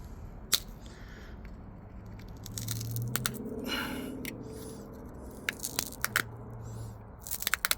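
Sharp cracking clicks and scraping crunches of a stone arrowhead being knapped and pressure-flaked, irregular taps scattered over several seconds with a faint low hum behind.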